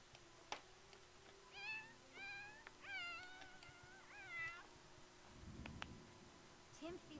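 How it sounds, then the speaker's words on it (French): Kittens in The Sims 4 give several short, high, rising meows in a series, with faint clicks and rustling around them and a brief low thump near the end. "Oh, les bébés chats!"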